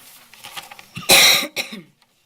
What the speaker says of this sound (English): I needed to cough.